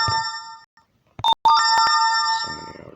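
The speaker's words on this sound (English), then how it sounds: "So many notifications." A phone ringtone and notification chimes sound in a rapid burst of bright, tonal electronic tones, sustained at first, then broken by a short pause and sharp repeated pings, ending under a low rumble.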